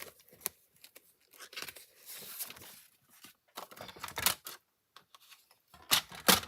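Cardstock and white paper being handled and cut for a card project, irregular close crisp snips, crinkles and rustles in short bursts separated by brief pauses.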